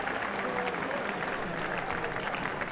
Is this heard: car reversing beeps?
no